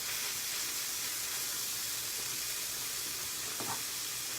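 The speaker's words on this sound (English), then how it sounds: "Searing means high heat, small amount of fat. I want all of my gnocchi touching the metal." Gnocchi searing in a little fat in a hot metal pan over high heat, giving a continuous even hiss and sizzle throughout.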